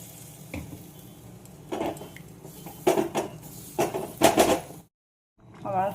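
Curry cooking in a pan after water is added: a soft sizzle under bursts of metal utensil scraping and clanking, close up, then a sudden brief silence and a short voice at the end.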